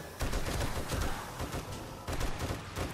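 Automated turrets in the 7 Days to Die video game fire rapid bursts of gunfire, tearing into a large zombie. Two dense volleys crackle at moderate loudness with no speech over them.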